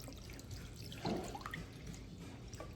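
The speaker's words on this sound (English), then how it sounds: "And we're going to start with the water" Water trickles and splashes as it is poured for barley bread dough, a faint, close liquid sound with a brief fuller gush midway.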